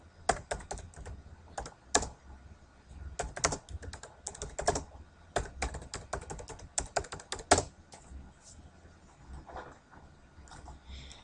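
Steady bursts of close computer keyboard typing, rapid clicks in uneven runs with brief pauses, clear and alone.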